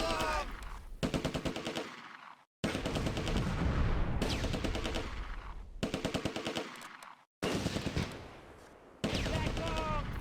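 Gunfire in the wartime strategy game Close Combat: A Bridge Too Far, set at Nijmegen bridge and Valkof Park, where rapid machine-gun bursts repeat in several long volleys broken by short pauses, with a voice narrating in places.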